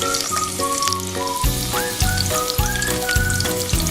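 Onion sizzles in hot oil in a pan, a steady fizzing hiss heard beneath prominent background music with tonal melodic notes throughout.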